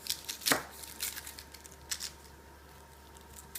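A knife cuts through onions on a board, a few quick crisp chopping strokes close by, sharpest near the start, with quieter scraping between and no talk.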